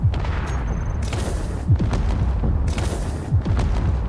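Automatic turret firing in the Space Engineers game, heard as loud booming bursts and repeated sharp shots over a rumbling low background, with broadband blasts recurring throughout.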